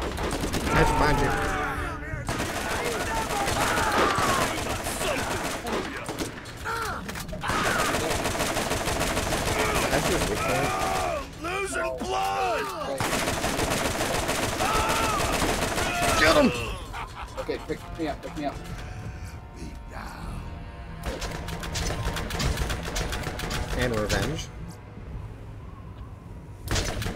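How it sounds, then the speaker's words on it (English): Machine gun fire in the video game Borderlands, dense bursts of shots through most of the stretch, mixed under near-constant chatter from several players talking over the game. "One bullet and killed him. It is a machine gun too."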